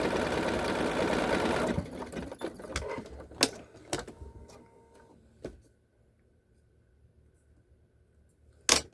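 A sewing machine top-stitches a bag flap in one steady whirring run lasting nearly two seconds, followed by clicks, small handling knocks and quiet pauses, with a sharp tap near the end.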